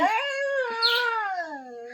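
A dog lets out a single drawn-out howl close by, its pitch rising and then sliding slowly down with a whining edge, with no talking.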